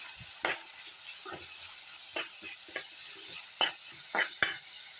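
Tomato, onion, curry leaves and green chili sautéing in a pan, a soft continuous sizzle broken by several sharp scraping stirs of the spatula at irregular intervals, no talk.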